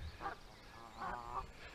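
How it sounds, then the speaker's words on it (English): Baby geese at a trout fishery lake give faint, distant honking calls, a few short bursts against soft outdoor background noise. "Oh, more baby geese as well over there."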